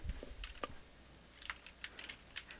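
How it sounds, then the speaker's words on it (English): Quiet clicking of keys on a computer keyboard, a short irregular run of light taps with small pauses, close but faint. "You can simply click on the Start menu, type in cmd."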